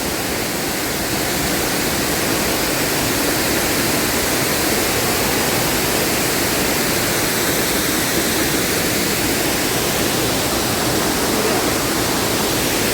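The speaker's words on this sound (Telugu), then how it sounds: "ఇక్కడే రెండో వాటర్ ఫాల్స్ అయితే పడుతున్నాయి" Thirathgarh Waterfalls in Jagdalpur, Chhattisgarh, roar as a constant, dense rush of falling water, loud and unbroken from start to finish, with no voices.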